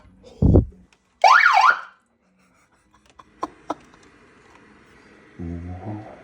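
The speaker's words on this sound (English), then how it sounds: "I'm gonna try and fit this ridiculous horn for a laugh" A cheap, very loud novelty horn wired into a van blasts in bursts: a low booming honk, then a wavering siren-like warble, followed by clicks and a lower stepped tune near the end.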